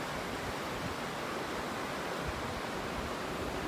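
Steady rushing of creek water flowing near a campsite on the Pacific Crest Trail, a continuous even wash of noise heard alone at low level.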